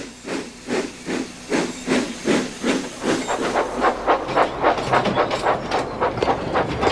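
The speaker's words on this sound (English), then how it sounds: "Thomas can puff all the way to Knapford Yard." Animated steam locomotive puffing along in a steady rhythm of chuffs that quicken slightly, with hissing steam throughout, close and fairly loud, no voices.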